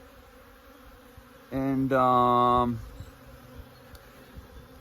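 Honeybees buzzing close up during a check of a hive that superseded its queen, a steady droning hum that swells for about a second with a higher-pitched rise, over quiet background with a brief word spoken.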